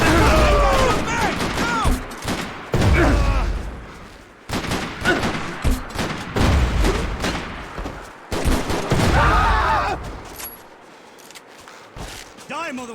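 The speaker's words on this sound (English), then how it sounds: "Someone stop him shooting at me!" Heavy gunfire in Max Payne 3 on Xbox Series X, with loud rapid bursts and scattered shots repeating through the clip while game characters shout and talk between and over the volleys.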